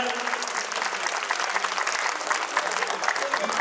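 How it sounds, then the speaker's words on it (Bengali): An audience at an annual school function applauds during a prize announcement, with dense, steady clapping from a crowd that continues for the whole stretch. "একটু হাততালি জোরে বাজাবেন, একটু জোরে একটু হাততালি যাই আমরা।"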